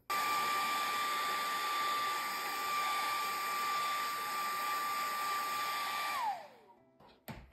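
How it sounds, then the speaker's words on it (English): A hair dryer runs steadily close by, drying a watercolor painting of a fish with a constant whine and airy rush for about six seconds, then winds down and clicks off. "I just grabbed the hairdryer so that I could be done with that"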